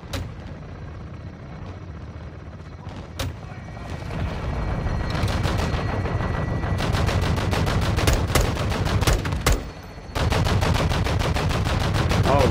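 Call of Duty MW2 fire support: sustained rapid gunfire bursts over a constant helicopter rotor drone, loud and continuous, with a short lull before the heavy firing returns, under some talk.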